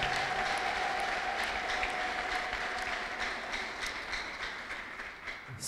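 Dense, steady applause from a church congregation, with many hands clapping together at an even level for several seconds, no voices standing out.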